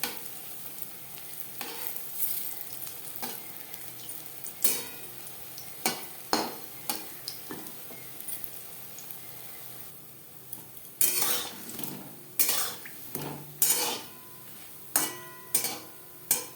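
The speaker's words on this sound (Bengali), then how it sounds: "উল্টে পাল্টে কোপ্তা ভাজা হয়ে গেছে" Raw banana kofta balls fry in oil in a pan with a low, steady sizzle while a utensil scrapes and clanks sharply against the pan again and again as they are turned.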